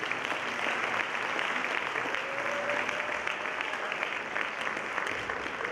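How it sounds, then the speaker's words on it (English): A concert audience at a high school winter concert applauds the wind ensemble, with dense, steady clapping that holds for several seconds at even loudness. "Have one more round of applause for our amazing wind ensemble."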